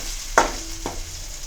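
Tempering (popu) for soaked, boiled jowar sizzles in a pan as it is stirred: two quick, close bursts of hiss and scrape, with no talk.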